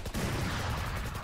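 Rapid gunfire in Valorant, a dense, continuous burst of shots filling the whole moment at steady loudness with no talk over it.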